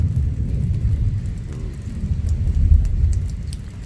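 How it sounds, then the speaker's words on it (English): Deep, rolling thunder rumbles through a severe thunderstorm with steady rain, a low, continuous growl that swells louder toward the end, with scattered drips and patter on top. "Hear that thunder."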